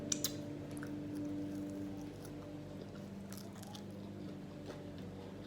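Chicken wings in SamYang sauce being chewed close up, soft wet squishing bites with a couple of sharp crunchy clicks at the start, quiet against a low steady background hum.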